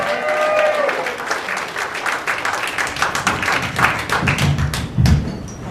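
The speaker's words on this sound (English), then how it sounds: "A big round of applause." Stand-up comedy club crowd applauding a comedian's debut set, a steady wash of clapping with a few louder thuds and whoops near the end, close and fairly loud, with brief voices mixed in.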